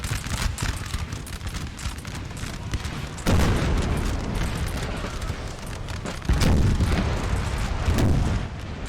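Artillery and musket fire in a Napoleonic Total War battle sound as a steady crackle of many shots. Heavy booms break in at about 3 seconds and again near 6.5 seconds, and the whole din stays loud and continuous.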